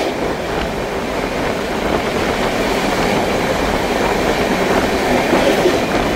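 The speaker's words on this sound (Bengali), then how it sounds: "চিল্কা লেকের পাশ দিয়ে আমাদের ট্রেন যাচ্ছে, দেখে নাও পুরো ফুল স্পিডে যাচ্ছে চিল্কা লেকের পাশ দিয়ে।" A Kolkata to Brahmapur express train runs at full speed beside Chilika Lake, giving a loud, continuous rumble with rhythmic wheel clatter heard from inside the carriage, steady throughout with no speech.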